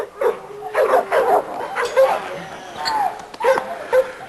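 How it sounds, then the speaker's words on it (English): A small female dog of pit bull type barks and yips in short, close bursts several times, with whimpering notes between the barks. "She sure is a fine little dog."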